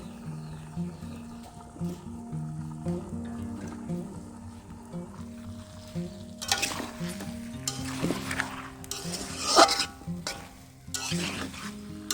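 Country chicken fries and sizzles under a lid in a pan with a ground paste of black pepper, cloves, nutmeg and mace, a steady close crackle with stirring and scraping that grows louder and busier halfway through.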